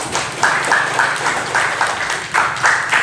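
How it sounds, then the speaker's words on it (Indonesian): Small group applauding a student after a classroom demonstration, short bursts of clapping that come in uneven waves, fairly close, with faint murmuring between. "beri tepuk tangan buat Kibri."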